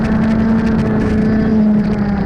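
A race car at a club day race meeting holds a loud, steady engine drone at speed as it runs onto the dirt, the note staying nearly constant with no clear shifts.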